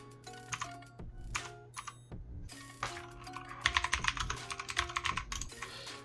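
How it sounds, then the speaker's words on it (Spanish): Typing on a Yeyian Spark 2000 mechanical keyboard with Outemu Blue switches: bursts of crisp, clicky keystrokes, sparse at first, then a dense rapid flurry, close and alone. "llevan rato escuchando cómo se oye este teclado"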